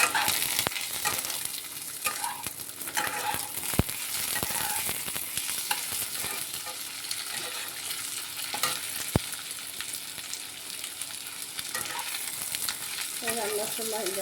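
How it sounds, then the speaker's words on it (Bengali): Onions browning in oil in a home kitchen pan, producing a continuous bright sizzle with stirring scrapes and a couple of sharp spatula clicks, quiet and close with no talking. "পেঁয়াজটা এবার লাল লাল হয়ে এসছে, ভাজা যাচ্ছে"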